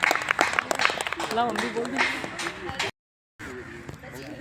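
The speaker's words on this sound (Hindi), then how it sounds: "तालियां।" Audience applause at a Gayatri Parivar health talk, a dense patter of clapping mixed with voices and chatter, cut off by a brief silence before murmuring resumes.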